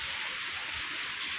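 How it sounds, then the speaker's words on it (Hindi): Heavy monsoon rain pouring steadily on a morning, a dense continuous hiss of downpour with no pauses, moderately loud and alone. "फिर से इतनी तेज़ बारिश पड़ रही है, बहुत तेज़ बारिश है एकदम"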